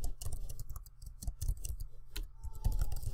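Quick bursts of typing on a computer keyboard, close and crisp key clicks in uneven runs with brief pauses between words.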